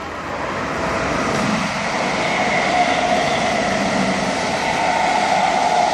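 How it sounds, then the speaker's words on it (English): A fast train passes through a station as a loud, sustained roar with tonal whine, building slightly and holding steady throughout. "There's a fast one coming through."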